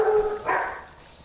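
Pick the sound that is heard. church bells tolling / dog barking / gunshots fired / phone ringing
dog barking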